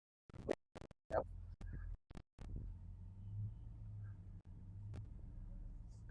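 A vehicle shifts into four-wheel-drive low while out collecting windblown logs in the woods, with clunks and bumps giving way to a low steady engine rumble as it creeps off, voices talking briefly over the opening knocks.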